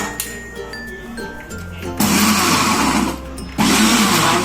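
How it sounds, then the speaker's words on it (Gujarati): A mixer grinder coarsely grinding raw mango chutney, switched on and off in short bursts, with a loud whirring roar in pulses separated by quieter pauses. "આપણે દરદરું પીસવાનું છે, એકદમ પેસ્ટ નથી કરવાની. તો આપણે એને આવી રીતે ચાલુ બંધ કરશું."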